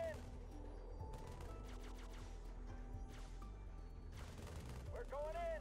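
Halo Wars units firing in a battle near a Relic site: dense, continuous bursts of weapon fire and impacts over a low rumble, with clipped unit voice responses breaking through.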